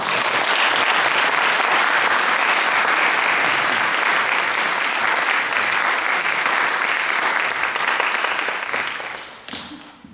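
A Korean church congregation in Frankfurt applauds to welcome a visiting missionary at a Sunday service: loud, dense, sustained clapping from a full room that fades out after about nine seconds.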